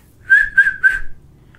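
Someone whistles with the mouth, three short clear notes in quick succession at a steady pitch, loud and close, followed by quiet.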